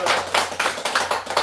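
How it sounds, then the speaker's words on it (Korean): Congregation clapping at a church gathering after a call to give glory to God, a steady run of hand claps with rhythmic bursts and a faint voice underneath. "우리 하나님께 영광의 박수."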